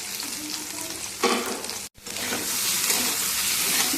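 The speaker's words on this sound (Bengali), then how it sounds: "এই যে পনিরগুলো ভেজে নিই" Paneer pieces fry in a pan with a loud, continuous close sizzle, briefly cut by a short gap before the crackling resumes, with no voices.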